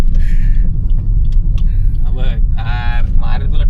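A car engine runs with a steady low rumble while the vehicle is driven, continuous throughout, with people talking over it inside the car.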